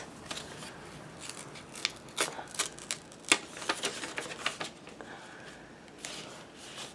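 Textured paper envelopes are handled up close, giving a quiet run of crisp rustles, taps and papery scrapes in an otherwise hushed room.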